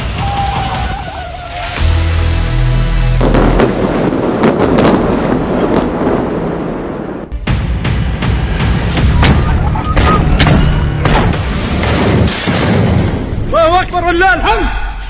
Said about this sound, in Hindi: बहुत से धमाके हो रहे हैं।